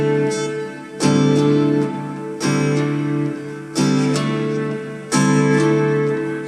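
An acoustic guitar plays a song's strumming pattern with a hammer-on after the upstroke. Chords ring out in sustained strums about every 1.4 seconds, with quick fretted hammer-on notes between them. It is close and solo, with no voice.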